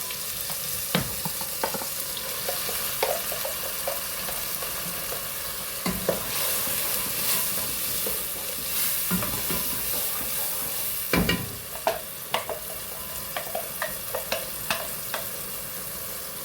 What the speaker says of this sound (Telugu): మసాలా అంతా వేసుకొని బాగా ఫ్రై చేయాలండి